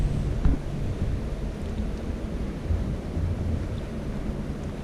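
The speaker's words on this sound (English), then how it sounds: "And this is the Arkansas River." The fast-running Arkansas River rushes steadily on the Canon City, Colorado riverwalk, a dense low roar mixed with wind buffeting the microphone, with no talking.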